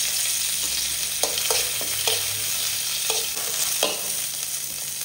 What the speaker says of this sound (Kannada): ಬಾಣಲೆಗೆ 1 ಸ್ಪೂನ್ ಎಣ್ಣೆ ಹಾಕಿ ಒಂದು ಸ್ವಲ್ಪ ಕರಿಬೇವು